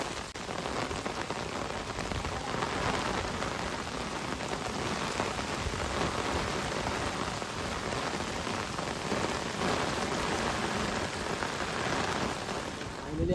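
Steady, dense rain falls on a flooded paddy field in the Konkan during rice transplanting, a continuous close hiss of drops that stays even throughout with no other sound standing out.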